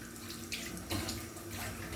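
Running water from a tap pours steadily while hands are washed under it in a home kitchen during cooking, a continuous close splashing hiss with a brief louder surge near the middle.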